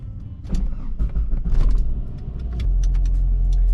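A Saab 9-5 car pulling away after a transmission bushing replacement, low engine rumble building under scattered interior clicks and knocks, then settling into a steady, louder drone heard from inside the cabin.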